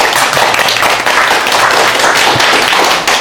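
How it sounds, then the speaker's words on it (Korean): An audience at a hair-styling education session applauds, a dense, loud, continuous wash of many hands clapping close by, holding steady throughout. "박수 한번 주세요"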